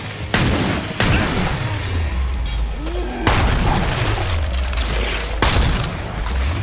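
Gunfire in the Killing Floor video game, a series of four or five loud, sharp shots spaced about a second or two apart, each with a booming low tail, with brief voices in between.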